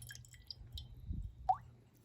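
Water poured off tomato seeds being saved, heard as a few sparse, quiet drips and a soft wet squish, close by with no talking.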